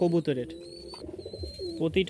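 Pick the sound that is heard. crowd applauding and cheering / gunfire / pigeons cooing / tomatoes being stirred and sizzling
pigeons cooing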